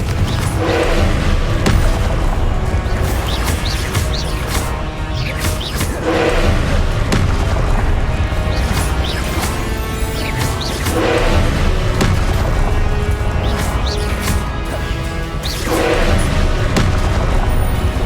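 Heavy booming explosions from the Confringo fire spell in the video game Hogwarts Legacy, several loud thumping blasts spaced a few seconds apart amid a thick, continuous game score.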